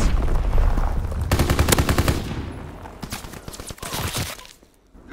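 Rapid bursts of automatic gunfire in a World War II shooter video game, close, sharp shots in fast rattling strings followed by scattered single cracks that fade toward silence.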